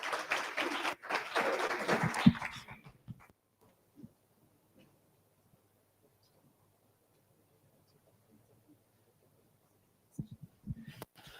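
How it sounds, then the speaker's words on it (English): Applause at a regional meeting, a brief burst of audience clapping for a few seconds at the start that dies away into near silence, with a little more scattered clapping returning at the end. "can we give him a round of applause?"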